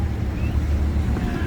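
Tour boat cruising on the River Thames past Fishmongers Hall as it goes under London Bridge in central London, a steady low engine and water rumble with wind buffeting the microphone throughout, no speech.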